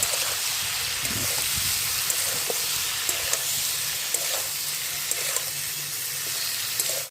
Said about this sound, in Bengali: খানিক্ষণ ভালো করে কষিয়ে নিচ্ছি বন্ধুরা